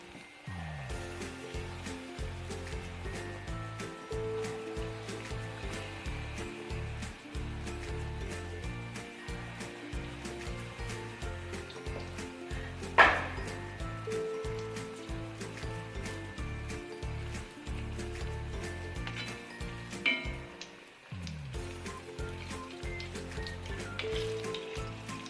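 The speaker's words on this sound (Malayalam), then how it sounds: "ഓയിൽ നന്നായിട്ട് ചൂടാകുമ്പോൾ ഇതിൽ നിന്ന് കുറച്ച് ഇട്ട് കൊടുക്കാം." Batter mix fries in hot oil with a steady, close, crackling sizzle that runs on without a break for the whole stretch. A few faint clicks and taps sit on top, and nobody speaks.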